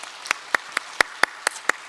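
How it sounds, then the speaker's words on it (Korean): A church congregation at a Wednesday worship service claps for the Wednesday choir: seven or eight sharp, evenly spaced hand claps in a slow unison rhythm, close and clear over a quiet room. "우리 박수로 격려하도록 하겠습니다"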